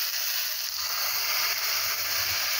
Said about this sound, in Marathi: आता ही फोडणी आपण या चटणीमध्ये ओतून